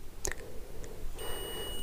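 A multimeter on continuity mode beeps while its probes test the output winding of a transformer; a steady, fairly quiet electronic tone starts partway through and holds to the end over faint background noise.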